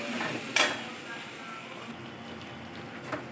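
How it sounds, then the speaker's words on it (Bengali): Spice paste of ground spices, ginger and green chilli frying in a pan with asafoetida, a soft steady sizzle broken by a couple of sharp utensil scrapes or knocks. "কাঁচা লঙ্কা আছে, এটা একটু ভালো করে কষিয়ে নিই।"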